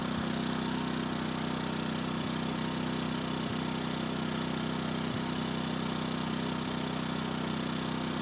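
A budget dual fuel generator, able to run on a propane barbecue tank, drones steadily nearby with a constant low engine hum and a faint ticking pulse throughout, with no one speaking.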